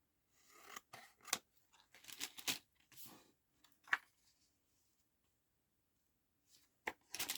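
Scissors snip through paper in a quiet room, cutting a straight line for a junk journal, a cluster of close, crisp cuts with short pauses, then a few last snips.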